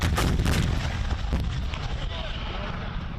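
Azerbaijani army artillery firing from a front-line gun position, a loud, dense rumbling barrage of heavy booms that fades into a long reverberating roll, with a voice faintly present.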